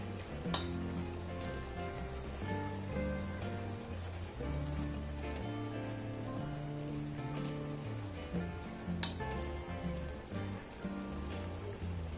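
Pork neck stir-frying in a pan for grilled pork neck salad: a steady, moderately quiet sizzle runs throughout with occasional scraping stirs and two sharp clanks of a utensil against the pan.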